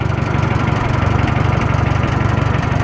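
An old tractor fitted with a blade idles nearby, a loud steady low engine rumble with an even pulsing chug that holds throughout.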